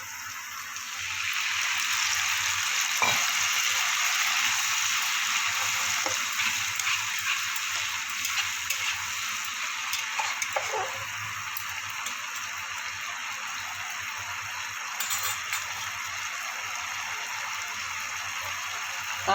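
Tomato puree hits a hot pan and sizzles loudly, a steady close hiss of frying that settles into a continuous bubbling crackle with occasional small pops.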